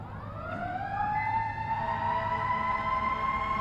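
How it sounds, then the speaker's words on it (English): A fire truck siren wails steadily and loudly as the vehicle passes during an outdoor press briefing, its tone rising and sustained with no talking. "I'll wait till the siren goes by."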